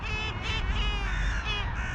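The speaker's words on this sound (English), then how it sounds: "There's the giant gull. Look at him. It's very vocal." A large seagull calls loudly and close by, giving harsh, raucous cries that run continuously through the moment with no speech.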